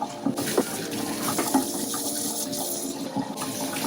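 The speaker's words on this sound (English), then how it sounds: "I like to run some water through the impeller just to clean whatever crud may be in there out" Tap water runs steadily through an aquarium filter impeller being rinsed clean of grime, a continuous close splashing gush with a few brief spurts, heard alone without talk.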